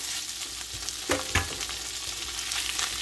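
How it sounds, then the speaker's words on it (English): Canned butter beans going into a hot pan, producing a steady close sizzle with a couple of sharp clatters as they land and are stirred. "Now I'm going to add in our butter beans, which it calls for 1 can."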